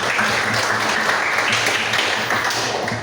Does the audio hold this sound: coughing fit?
no